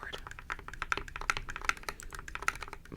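Fast typing on a mechanical keyboard, a steady run of sharp, close key clicks and clacks in an irregular rhythm with no voice over it.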